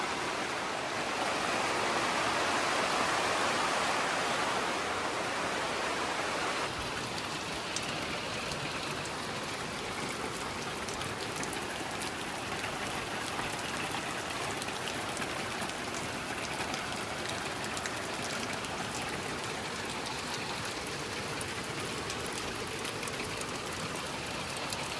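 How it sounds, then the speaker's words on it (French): Heavy rain pours down during renovation of an 1840 house with a damaged roof, a dense, steady roar of water close by lasting throughout. "Je sais pas si tu l'entends, mais c'est un peu le déluge ici."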